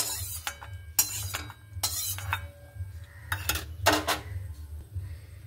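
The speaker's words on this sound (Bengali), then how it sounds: "এবার আমি একটা বাটিতে উঠিয়ে নিচ্ছি।" A metal spoon scraping and clinking against a pan and bowl while fried garlic is moved into the bowl, several short sharp clinks between quiet gaps.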